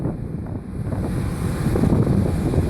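Steady wind buffets a microphone at Washington Dulles airport on a gusty day, a continuous low rumbling roar that swells slightly with no voices over it.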